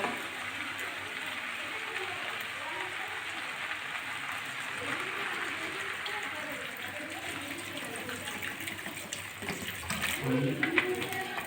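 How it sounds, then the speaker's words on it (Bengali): Water is poured into a pan of thick, slowly cooked curry, making a steady wash of splashing and sizzling that runs continuously and grows a little louder near the end. "এবার আমি একটু জল দিয়ে দেবো"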